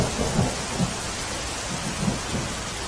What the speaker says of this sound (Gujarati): રાજકોટના ધોરાજી ઉપલેટામાં ભારે વરસાદ પડી રહ્યો છે